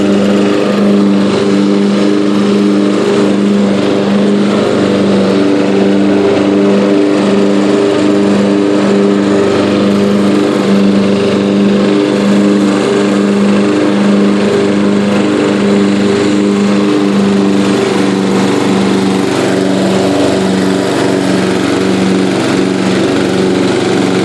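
A Yard King lawn mower engine runs steadily and loudly after a carburetor rebuild, holding an even, unbroken drone for the whole stretch.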